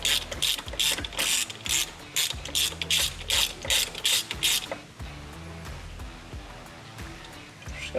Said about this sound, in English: I'm going to run this screw down.